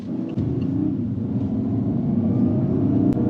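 A continuous low BMW car engine rumble played artificially through the car's speakers, with a steady hum, lasting throughout without talk.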